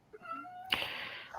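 A pet cat meows insistently for a treat, a drawn-out tonal cry followed by a louder, harsher burst that ends abruptly, close and alone in a quiet room.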